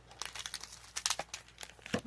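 Close, crisp crinkling of a plastic gummy treat packet as scissors cut it open, with uneven crackling bursts and a few sharper snips, heard alone without speech.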